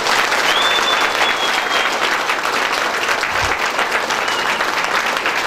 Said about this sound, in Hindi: एक बार सब मिलके जोरदार ताली,